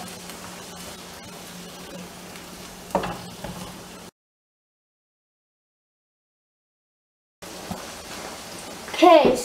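Rice frying in a pot for Persian rice, stirred with soft scraping and sizzling in two stretches separated by a silent gap, while a voice talks over it.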